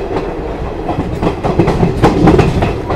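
Chetak Express train running on broad gauge rails near Nathdwara, a steady loud rumble with rhythmic clickety-clack from the wheels, close and continuous.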